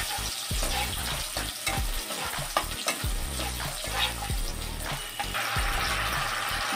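Tomato paste and green chilli sauté in oil for a pabda fish curry, a loud, close, continuous sizzle broken by repeated stirring scrapes of a spoon against the pan.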